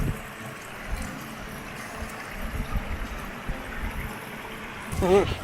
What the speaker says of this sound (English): Put the stepping stone right here just so I could get some great footage of that waterfall.